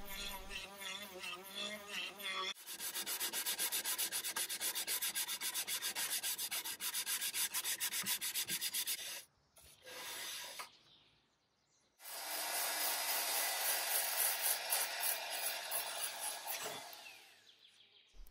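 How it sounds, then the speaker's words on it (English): A small power sander buzzes steadily against an old wooden table in two long runs split by a short break, loud and close, with no one speaking. "I'm the biggest fan of sanding, so this is just one of my cool little tools"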